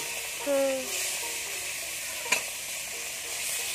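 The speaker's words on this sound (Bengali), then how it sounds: "এই যে মাছ ভাজা হয়ে তুলে নিয়ে নিচ্ছি" Tarai fish frying in a pan, a steady soft sizzle running throughout with a brief stirring clatter and one sharp click midway, heard close with no talking.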